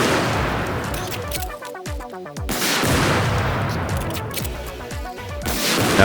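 Rocket and RPG warheads slamming into a Bradley armored vehicle in a Battlefield video game, a dense barrage of loud explosive impacts and crackling blasts almost continuous with brief lulls.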